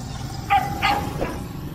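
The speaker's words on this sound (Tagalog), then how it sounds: "Yes, ito mga aso na to." A few dogs bark at a street roadside, giving three short barks spaced across under two seconds over a steady background hum.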